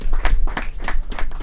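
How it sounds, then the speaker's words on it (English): Brief burst of audience clapping at a regional NGO expo, honouring its event sponsors; scattered close hand claps ring out in a quick, uneven patter over a short stretch. "Let us give them a round of applause."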